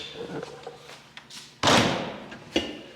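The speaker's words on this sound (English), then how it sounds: "Listen closely to the sound of this basement door when Rob closes it here" Stainless steel basement bay door on a motorcoach swung shut by hand, giving one solid, heavy thud after some soft shuffling and handling noise, then a smaller latch knock near the end.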